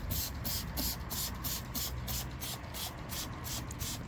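Surfex HD tyre cleaner at 10% is sprayed onto a car tyre in a fast, steady series of close hissing trigger-sprayer bursts, about three per second.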